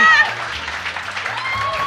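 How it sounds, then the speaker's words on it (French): An audience applauds for Chantal, a Radio-Canada star, at a live show: steady dense clapping that fills the whole stretch, with voices talking over it. "Applaudissez Chantal qui est rendue une vedette de Radio-Can."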